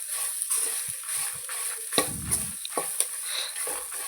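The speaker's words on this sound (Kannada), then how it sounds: "ಈ ಟೈಮಲ್ಲಿ 1 ಹಿಡಿಯಷ್ಟು ತೆಂಗಿನಕಾಯಿ ತುರಿನ ಸೇರಿಸ್ಕೊತಿದ್ದೀನಿ. ಇದನ್ನು ಚೆನ್ನಾಗಿ ಫ್ರೈ ಮಾಡ್ಕೋಬೇಕು." Grated coconut and masala fry in a pan for a village-style chicken sambar, with a steady close sizzle and a few scraping stirs and soft knocks of a utensil, and no voices.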